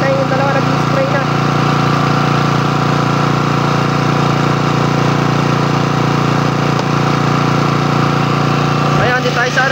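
A gas-powered sprayer engine used for spraying calamansi trees runs close and loud at a steady idle-like drone, with a brief clatter near the end.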